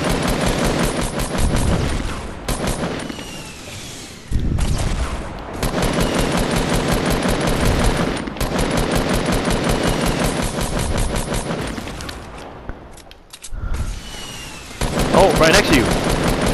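Rapid automatic gunfire in Fortnite as players shoot down a built fort, loud sustained bursts with brief pauses between them, close and dominant, with players' voices talking over the shooting.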